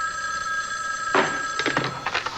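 An old-fashioned telephone starts ringing partway through, in short bright repeated bursts over a steady background hum, with no talk.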